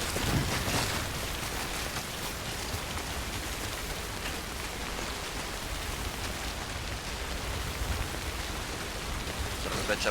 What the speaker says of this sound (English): at this elevation, you know that rain has gotta be fucking cold.